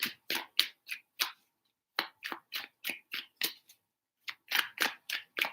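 Tarot cards are shuffled in short, crisp bursts, each a quick riffle of card edges, grouped in three clusters separated by brief pauses, close and clear against silence.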